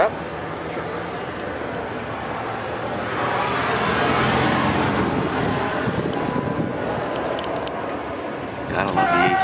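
A 1970 Pontiac LeMans Sport convertible with a 400 engine starts up and settles into a steady, rumbling idle, heard close over wind noise, with people talking nearby.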